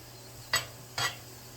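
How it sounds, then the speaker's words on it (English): Onions frying in a pan are stirred twice, two quick scraping strokes over a faint steady sizzle, close and clear with no voices. "I'm sitting here just messing with the onions"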